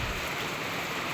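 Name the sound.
heavy rain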